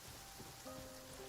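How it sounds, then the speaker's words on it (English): Rain falling in the video game Genshin Impact, a steady hissing wash of drops on surfaces, soft and continuous, with faint tonal game sounds over it and no talk. "I'm used to the rain, but you should probably use an umbrella."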